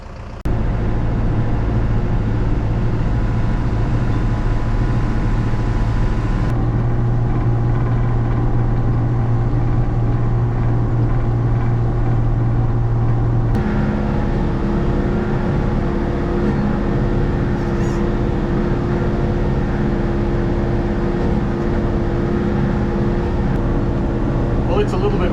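A tractor pulls a 14-foot John Deere disc through a wet spring field, its engine a loud, steady, close drone with a low rumble that shifts slightly in tone partway through.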